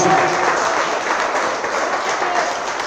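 A church congregation applauds continuously, a dense wash of clapping from many hands, fairly loud and sustained for a few seconds.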